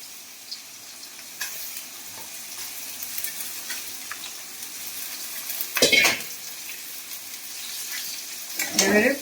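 Cauliflower fries in a pan with a steady, soft sizzle, and loud metal scrapes and clatters come from stirring near the six- and nine-second marks, with no talking.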